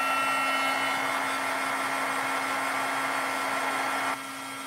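A heat embossing tool roars steadily while heating a spring card-making project, a loud, even blower whine that holds for about four seconds and then drops off as it is switched down.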